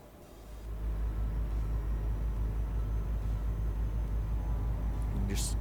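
Deep, steady engine drone from a truck hauling a heavy load at night in Euro Truck Simulator 2, swelling in after a quiet start and holding a constant low rumble, with a brief higher burst near the end.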